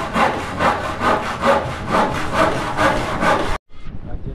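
Hand saw cutting through wood during house construction, a steady back-and-forth rasp of about nine strokes, close and loud, stopping abruptly with faint rustling after.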